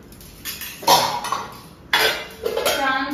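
Dishes and metal utensils clink and clatter as a plate of onion- and garlic-free food is arranged for a Hindu bhog offering, with several sharp clatters and scraping amid quieter handling.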